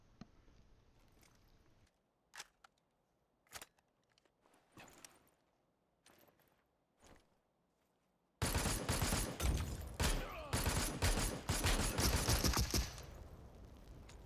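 Gunfire exchange in the battle-royale game Super People: sparse single shots and short bursts at first, then a dense, loud stretch of rapid automatic fire and overlapping shots filling the second half.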